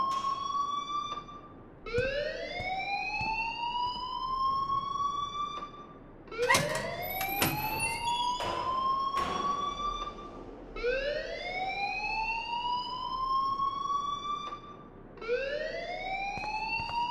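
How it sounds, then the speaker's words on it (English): A fire alarm in the video game Life is Strange wails in repeated rising electronic whoops, each sweep climbing and then restarting, loud and continuous with sharp clicks in between. "please turn off that alarm since that's your job"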